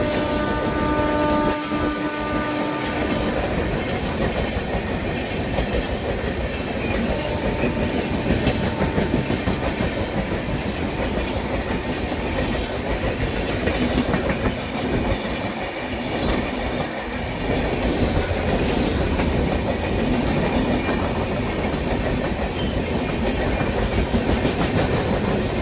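The Mahabodhi Express rushing past on the railway near Tundla, a loud continuous roar of wagons with rapid clickety-clack over the rail joints and brief squeals and horn traces, sustained throughout without speech.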